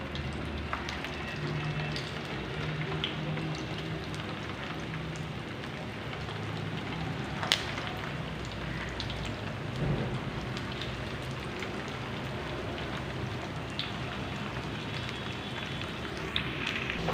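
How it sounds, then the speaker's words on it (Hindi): Kebabs made from leftover rice fry in hot oil, giving a steady, dense sizzle and crackle with small pops throughout. "बाकी के भी इसी तरह डाल लेंगे और फ्राई कर लेंगे।"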